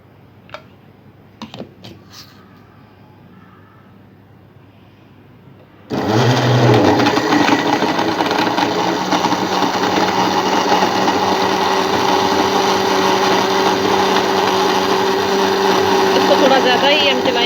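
An electric blender abruptly starts up at full power, churning milk with dates for a banana milkshake, and keeps whirring loud and steady after a few quiet seconds with faint clicks.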